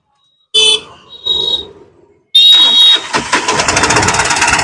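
A Mahindra Maxmo van with a no-start fault is cranked in short bursts, then its engine catches and settles into a loud, steady idle with a sharp buzzing tone over the top.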